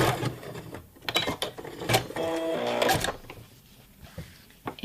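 A domestic sewing machine stitches fabric in rapid mechanical bursts, its motor whirring and needle clattering in short runs with pauses between, close and moderately loud with no talking.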